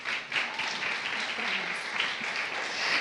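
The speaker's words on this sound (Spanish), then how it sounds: "Un aplauso para Natalia." Applause from a church audience welcoming a guest onstage, steady dense clapping that fills the whole moment without pause, loud and close throughout.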